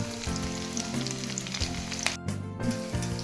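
Onions and green chillies crackle and hiss in hot oil with ginger and cumin, a continuous near sizzle with a few stirring bumps and a short dropout.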